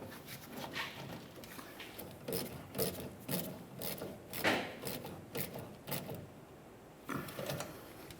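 Clamp on the fuel tank of a Dodge Ram 2500 pickup being tightened by hand, a series of quiet ratcheting clicks and metallic rasps in short bursts, close and fairly soft with no talk.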